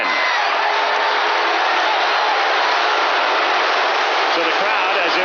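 A stadium crowd at an NLCS playoff baseball game between the Cardinals and Braves roars with cheering and applause, a loud, continuous wash of noise throughout.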